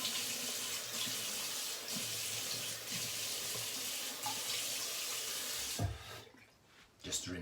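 Water from a bathroom tap runs steadily into a sink for rinsing after a straight razor shave, a close, constant hiss that cuts off near the end, leaving brief drips and splashes.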